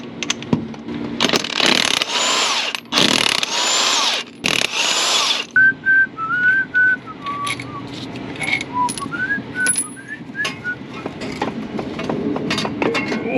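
Power tool pulling the bolts off a worn BMW E30 flywheel, several loud close whirring bursts, followed by quieter clinks and handling noises with a faint whistling tone.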